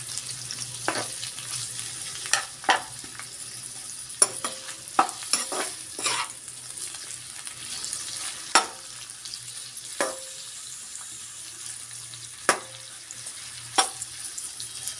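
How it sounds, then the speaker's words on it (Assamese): Onions fry in a pan for a chicken curry, a soft steady sizzle running underneath while a utensil stirs and scrapes in sharp intermittent clicks and knocks; no one speaks. "প্ৰথমতে পিঁয়াজখিনি মই খুব ভালকৈ ৰঙচুৱাকৈ ভাজি ল'ম।"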